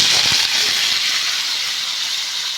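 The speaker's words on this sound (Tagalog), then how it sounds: "i-fry muna natin yung ating patatas." Potatoes fry in hot oil for chicken afritada, giving a loud, steady, bright hiss that fades slightly over a few seconds.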